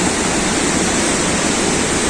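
Rushing river water at a hydroelectric site on the Guaire River in Caracas, a loud, steady broadband roar that holds constant throughout with no voices over it.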